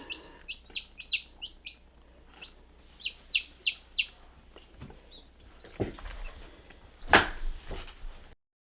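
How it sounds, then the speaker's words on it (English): White-crested black Polish bantam chicks cheep in quick bursts of high, thin peeps, clustered in short runs with pauses between, then some handling rustles and bumps close by. "this little chick is our white-crested black Polish bantam"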